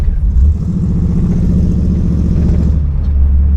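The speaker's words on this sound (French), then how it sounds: "Ouais, il est incroyable l'échappement." A Pontiac Firebird Trans Am with a McFly Concept exhaust rumbles loudly and close, a deep, throaty engine drone that holds steady throughout with no one speaking.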